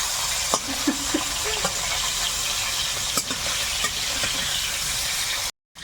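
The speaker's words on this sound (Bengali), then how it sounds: "কড়াইতে তেল দিয়েছি তেলটাও গরম হয়েছে মাছগুলো এখন দিয়ে দেবো" Fish sizzles in hot oil in a wok, a steady soft frying hiss with a few sharp utensil clicks and taps, close by and without talk.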